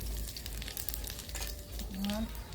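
Cumin and whole spices sizzling in hot oil in a pan for homemade duck curry, a steady close crackling hiss with light stirring and a faint voice over it.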